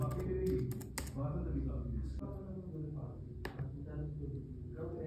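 Close computer keyboard typing, quick irregular clicks with a few sharper key strikes, over a quiet background and a voice talking.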